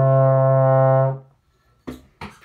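A single steady trombone note, C in first position, holds for about a second, then stops, followed by two short breathy bursts.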